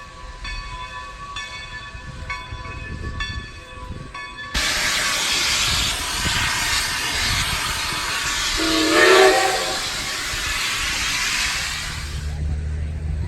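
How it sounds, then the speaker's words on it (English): Strasburg Rail Road steam locomotive number 90 at Groff's Grove stop, a loud burst of steam hiss venting alongside the tracks, a whistle rising midway, and hissing fading as the engine stands. "Here, number 90 is stopping at Groff's Grove as Norfolk and Western 611 sits on the siding."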